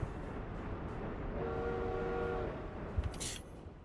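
A train in the city-building game Workers and Resources sounds a horn for about a second over a soft rolling rumble, then a short clatter follows.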